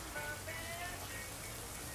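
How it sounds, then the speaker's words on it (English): Steady rain falls in a movie scene, a soft continuous hiss that runs evenly throughout with no break or change. "I love the rain."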